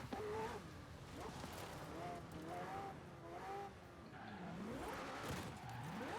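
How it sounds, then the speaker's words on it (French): Faint Forza Horizon 4 cars drive and skid, their engine tones sweeping up and down in quick arcs, mixed with voices talking throughout. "Nous testons nos voitures sur Forza Horizon 4, ça tourne mal."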